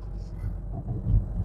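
Steady low engine drone inside a moving Fiat Bravo with a 1.6 Multijet 120 hp turbo diesel, a continuous rumble with slight swells in loudness and no clear talk.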